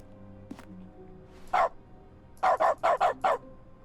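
A small dog barks in Dog mode of the video game The Stanley Parable, one bark, a pause, then a quick run of five sharp, evenly spaced barks over a faint background hum.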